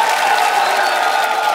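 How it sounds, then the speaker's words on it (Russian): Studio audience applause on a televised ballroom dance competition, a dense, even wash of clapping with faint cheering, close and loud throughout. "Ваши аплодисменты."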